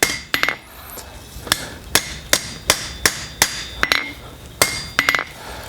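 A hammer strikes a tool steel cold chisel being forged, about a dozen sharp ringing metallic blows at a steady, slightly uneven pace, loud and close with brief quiet gaps between.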